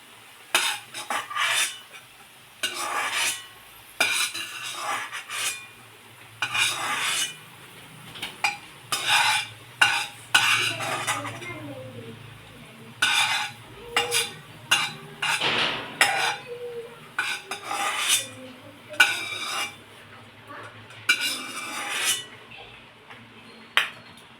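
Fried potato for sabudana khichadi is scooped out of a pan of oil into peanuts, with repeated metal spatula scrapes and clinks in irregular bursts over a faint background sizzle.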